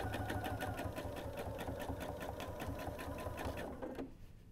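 A sewing machine stitches steadily along the edge of a quilt hexagon, a fast even mechanical whir with rhythmic needle clatter, close and loud, stopping abruptly near the end.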